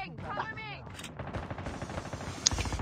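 An MX9 submachine gun fires in an online shooter as a rapid, fairly loud string of shots with a sharp crack near the end, while a player talks over it.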